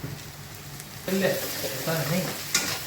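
A paste of ginger, garlic and chili fries with tamarind in a pot for sambhar, giving a soft, close sizzle that grows louder partway through. A spoon stirs with light scraping, and there are no voices.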